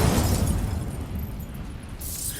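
Incendio fire spell cast in Hogwarts Legacy, a loud roaring burst that fades into a whooshing rush over about two seconds. A brief bright swish comes at the end.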